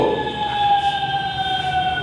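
Fire engine siren passing outside, a loud, steady wailing tone with clear harmonics that slowly drifts in pitch, heard alone over faint traffic noise.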